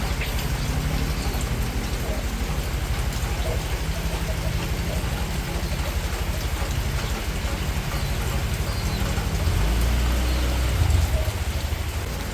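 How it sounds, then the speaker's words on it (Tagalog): Steady rain pours during a rainy spell outdoors by a hut, a constant dense hiss that fills the whole stretch with little variation, and a faint low rumble swells briefly near the end. "Ayan po, maulan na naman mga chula."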